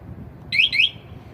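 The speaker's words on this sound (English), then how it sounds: "Alarm on. Alarm system." Alarm system on a Kanis Powersports 72-volt electric bike giving two short, loud, high electronic chirps in quick succession over a quiet background.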